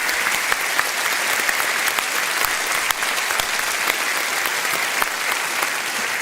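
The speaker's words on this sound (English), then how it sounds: "could we also just give a round of applause for our show team here with the set" Loud, steady applause from a crowd at a political rally, many hands clapping in a dense continuous patter with sharp individual claps standing out, carrying on without pause.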